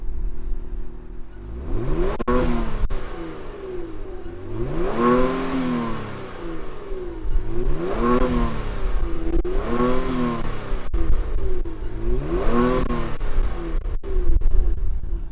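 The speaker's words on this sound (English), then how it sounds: "let's go ahead and fire up the stock one and see what it sounds like." A 2019 Kia Stinger GT2 with its stock exhaust runs near the microphone, its engine note rising and falling in several repeated rev sweeps over a steady idle, with no talk.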